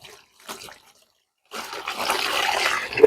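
Water poured into a container of fabric to dampen it for adire tie-dye, a steady splashing, gurgling flow that starts after a brief quiet pause with a couple of faint knocks, then continues close and fairly loud.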